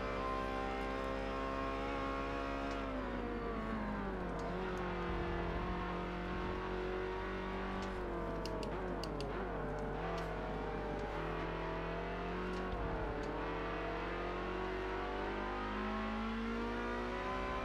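A car engine in a racing video game driven with a Logitech G920 wheel drones steadily and loudly, its pitch dropping twice as it slows for corners before climbing again as it revs back up, with no voices.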